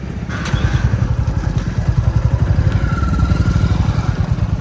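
A motorcycle engine running on a ride in hilly country near Bir and Dharamshala, a close, loud, rapid thumping exhaust pulse throughout with a faint whine above.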